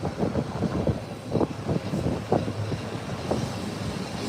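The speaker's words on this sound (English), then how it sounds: "here comes a nice takeoff, early up, up and away" A plane takes off nearby, its steady broad roar swelling with a few rumbling surges as it climbs away, wind noise mixed in and no talking.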